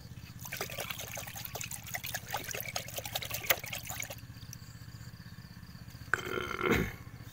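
A herbicide mixture for weed control in a peanut field is poured into a bucket. It makes a steady close trickle for about four seconds, quiets down, then ends with a brief splash. No one speaks.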